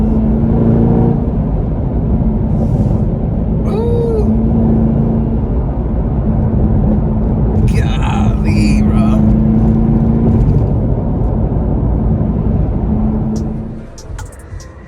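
A nearby 2021 Chevrolet Camaro ZL1's exhaust rumbles deeply and steadily at idle, with brief faint background noises, then fades near the end.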